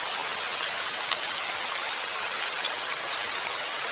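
Dense, steady rain falls as a continuous even hiss with faint droplet patter, unbroken from start to finish.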